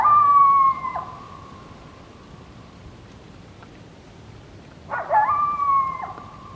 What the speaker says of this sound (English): Coyotes are common but skittish in the state of Montana.